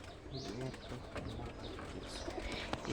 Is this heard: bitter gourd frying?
no